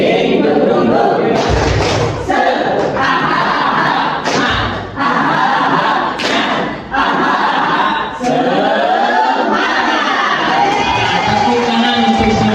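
A large group of trainee teachers at a school workshop doing a rhythmic spirit-clap chant, loud crowd voices shouting in unison with sharp claps and thumps in a repeated pattern, close and energetic.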